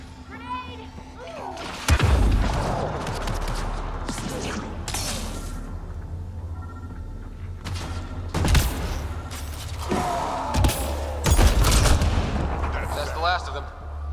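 A grenade explosion and gunfire in Mass Effect Andromeda during a hostile firefight: sharp heavy blasts near two, eight and a half, and eleven to twelve seconds, mixed with bursts of shots, whooshes and rumbling debris, with voices in between.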